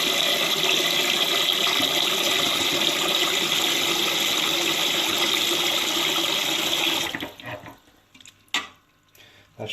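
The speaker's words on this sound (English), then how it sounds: "So I'm going to fill this up with water." Tap water runs steadily into a cooking pot in a home kitchen, a continuous rushing splash for about seven seconds before the flow stops, followed by a few clunks and drips.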